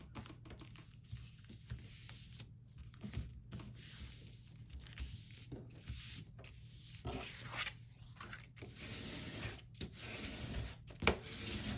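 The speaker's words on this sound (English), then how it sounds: "We can trim the sides." Trimming the sides of a paper journaling tag: close, scratchy cutting and rubbing strokes continue throughout, with irregular bursts and brief gaps.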